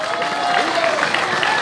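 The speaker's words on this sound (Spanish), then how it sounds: "Un aplauso más fuerte el aplauso." Crowd at a stage 4 award ceremony of the 2018 Vuelta a Colombia Femenina in Socha, a steady wash of applause and crowd noise with voices mixed in, loud and continuous for a short stretch.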